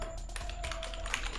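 Rapid, steady keystrokes on a computer keyboard, close and continuous, with light irregular taps during Android programming work.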